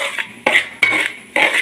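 Rice flour for neypathiri being mixed in a bowl, four quick scraping, clinking strokes in an even rhythm, close and clear with no talking.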